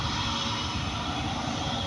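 A Cebu Pacific passenger airplane at an airport, heard as a steady, loud broadband engine roar that holds constant throughout with no breaks and no talking.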